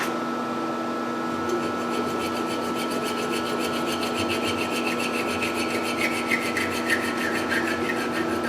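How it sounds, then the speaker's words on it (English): Back-and-forth strokes of a junior hacksaw cutting metal during a surface grinder repair, an even rhythmic rasp up close over a steady background hum, with no one speaking. "Junior hacksaw."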